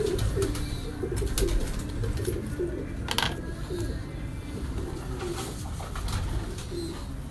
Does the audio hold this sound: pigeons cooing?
yes